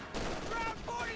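Dense battlefield gunfire from Company of Heroes, a World War II strategy game, with a sustained loud crackle of rifle and machine-gun shots filling the brief moment, with faint game voices mixed in.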